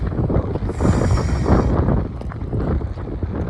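Steady wind rushing and buffeting against the microphone outdoors, a continuous loud roar with some low rumble, near the sea with salty air.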